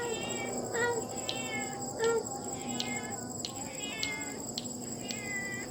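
At night in a cemetery, a cat meows a couple of times at close range over a steady chorus of chirping insects, with faint background noise throughout.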